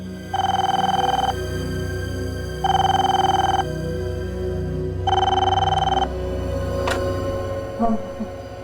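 A telephone rings in three long bursts separated by pauses, clear and fairly close, with a low background hum throughout.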